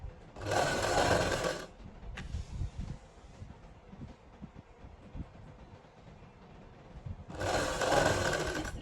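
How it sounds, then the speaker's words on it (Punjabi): A sewing machine stitches a fabric strip onto a garment neckline in two loud close bursts of rapid whirring, separated by several seconds of quieter handling and rustling. "ਇੱਕ ਪੈਰ ਦਾ ਮਾਰਜਨ ਦਿੰਦੇ ਹੋਏ ਆਪਾਂ ਪੂਰੀ ਸਲਾਈ ਲਾ ਲਾਂਗੇ"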